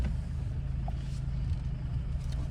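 A car being driven on a road in the Philippines, a steady low engine and road rumble running continuously and evenly throughout, close and moderately loud with no talking.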